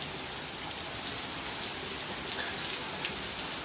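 Steady rain pours down on a stormy day, a dense, even hiss of drops with a few louder patters near the end and no thunder.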